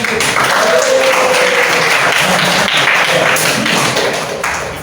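Applause from a class of vocational high school students, a dense steady wash of many hands clapping at full volume for nearly five seconds, with a faint voice briefly audible underneath.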